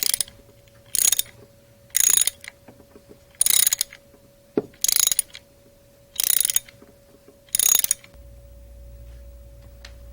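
A ratchet wrench loosening the last bolt on the cam gear of a Rotorway 162F helicopter engine, seven loud clicking ratchet bursts in a steady rhythm, close up and with no talk.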